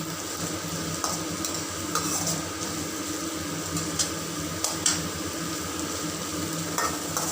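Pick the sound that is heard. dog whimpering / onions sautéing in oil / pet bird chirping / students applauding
onions sautéing in oil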